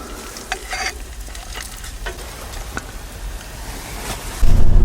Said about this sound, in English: We're just whipping up some salami now, some fried salami